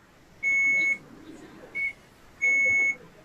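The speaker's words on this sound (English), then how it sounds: "I can't do anything about that beeping." Electronic beeps in a room: three high, steady tones, two long ones with a short blip between, clear and alone.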